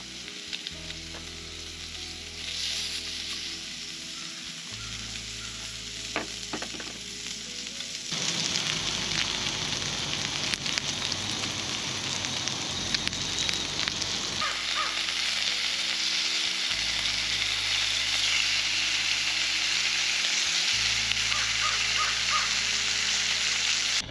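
Grease sizzles and spits in a very hot pan over a fire on a tailgate, a dense, steady frying hiss close by, with occasional scraping and clatter and a brief shift in texture partway through.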